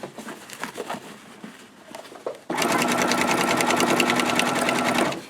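A sewing machine zigzag stitching fabric for a boxy project made from placemats: soft handling noises at first, then the motor starts and runs at a steady, loud, fast mechanical whir with a rapid needle rhythm.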